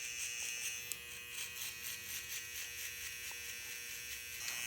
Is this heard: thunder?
no